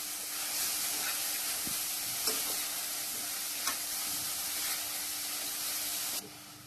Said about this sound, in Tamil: ஃபர்ஸ்ட் இதை லைட்டா நம்ம வதக்கிக்கலாம்.